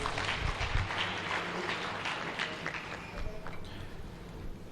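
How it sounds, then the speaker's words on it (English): Conference audience at a Uganda-China trade forum applauding as panelists are introduced, a busy patter of clapping that fades gradually, with a voice speaking over it. "Ladies and gentlemen, round of applause."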